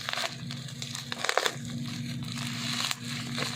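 A plastic parcel package torn open by hand without scissors during an unboxing, giving close crinkling, crunching and ripping sounds in quick bursts over a low steady hum.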